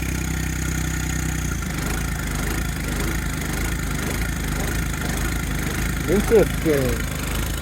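A John Deere 1025R compact tractor engine idles while warming up, a steady close diesel throb with a rough low pulse early that soon smooths out, continuous under a brief spoken word.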